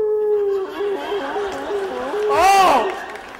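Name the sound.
audience imitating a hound dog howl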